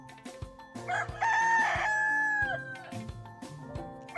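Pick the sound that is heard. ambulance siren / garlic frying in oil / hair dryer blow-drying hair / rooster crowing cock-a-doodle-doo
rooster crowing cock-a-doodle-doo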